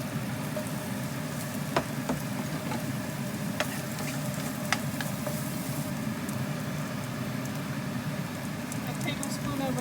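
Onion sizzles in a pan with a tablespoon of oil after ground beef was removed, a steady close crackle with occasional sharp clicks of a utensil, while a voice speaks over it.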